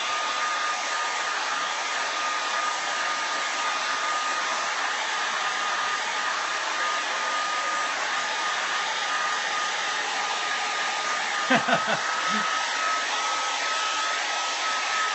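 A hair dryer runs steadily and loudly for the whole stretch while drying a freshly painted stencil, its constant whirring airflow broken briefly by a few small knocks near the end.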